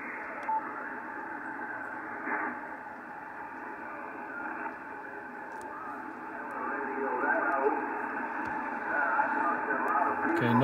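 Faint amateur radio signal on a Yaesu FTdx5000MP transceiver with the contour control engaged, a narrowband band of hissy, grinding receiver noise with a weak voice-like signal buried in it, steady and continuous.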